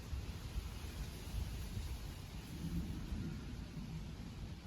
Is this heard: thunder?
yes